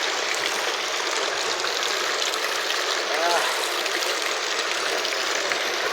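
Flood water pouring steadily along a street outside a gate, a constant broad rushing wash with no breaks, loud and close throughout.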